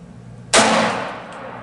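A single sharp .45 semi-automatic pistol shot fired over a chronograph outdoors, a loud sudden crack followed by a decaying report, alone without talk.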